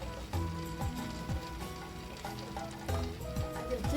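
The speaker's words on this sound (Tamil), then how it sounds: "ஒரு வடச்சட்டியில் கொஞ்சமாக போட்டு பார்த்துங்க எண்ணெய் காஞ்சிருச்சான்னு" A small test piece of idli batter drops into hot oil in a kadai and fries with a steady, continuous sizzle, heard up close.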